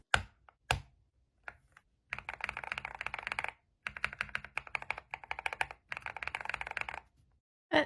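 Close, crisp typing on a mechanical keyboard fitted with lubed and filmed NK Cream switches: a few isolated key taps, then three fast runs of clacky keystrokes separated by short pauses.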